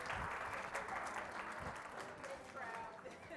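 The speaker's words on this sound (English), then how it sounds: "and the crowd goes wild" Audience at a talk applauds as a guest is welcomed on stage, a continuous, fairly faint patter of many hands clapping with some voices mixed in.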